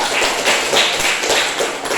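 A classroom group claps for a student group's presentation, dense continuous applause from many hands, close and loud for the whole short stretch.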